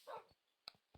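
Tamed wolves bark in Minecraft, a few short, quiet yips and barks spaced across a brief moment with nothing else audible.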